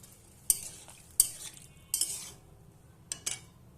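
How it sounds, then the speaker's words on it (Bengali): Potatoes stirred in a cooking pan with a utensil, giving a few sharp scraping clinks at irregular intervals over a quiet background, with no talking. "একটু নেড়ে দিলাম আলুটা।"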